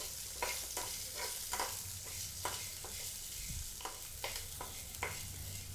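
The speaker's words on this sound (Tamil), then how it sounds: "எல்லாத்தையும் சேர்த்து நல்லா வதக்கி எடுத்துடலாம்" Onion, green chillies, pepper and curry leaves sautéing in a pan for egg curry, a steady low sizzle broken by repeated scraping stirs of a spoon.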